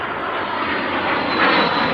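A de Havilland Vampire jet aircraft flying past at an air show, a loud steady broadband engine roar that swells slightly toward the end, with no talk.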